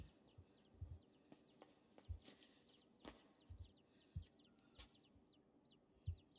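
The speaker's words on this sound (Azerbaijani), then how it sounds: "Bəs adi quşlar niyə cücə səsi çıxarır?" Small birds give chick-like chirps and clucking calls, short faint bursts scattered irregularly over a quiet background, with a few soft thumps; no speech.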